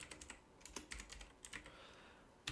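Quiet keystrokes on a computer keyboard while entering a Django install command, a run of soft irregular clicks in short bursts, close and faint with no talking.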